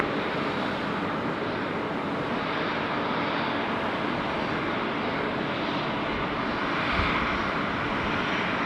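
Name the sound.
Qantas Airbus A330-300 jet taking off at Sydney Airport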